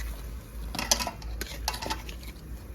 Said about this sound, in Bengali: সর্ষেটা কিন্তু ভাজতে হবে